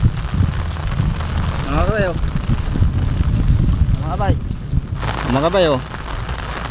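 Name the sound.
heavy rain falling at a fishpond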